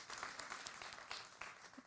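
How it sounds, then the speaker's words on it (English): An audience applauds a speaker at a climate resilience event, a fairly faint but steady patter of many hands clapping, heard at a distance. "A big applause to Anna."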